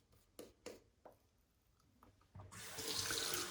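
A few soft clicks and taps, then a tap opens and water runs steadily in a close, rushing stream while shaving with a straight razor.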